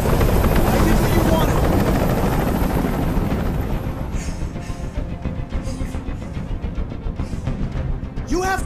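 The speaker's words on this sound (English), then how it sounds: "Tell that helicopter to get out of here." A helicopter in the video game Detroit: Become Human makes steady loud rotor noise that fills the whole clip, with a sharper burst near the end.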